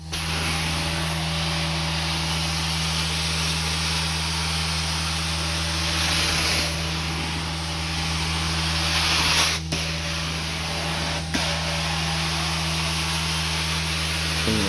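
A carpet cleaning machine runs steadily on a long-neglected carpet, giving a loud, constant spray-and-suction roar with a low motor hum beneath and a couple of brief clicks or knocks partway through.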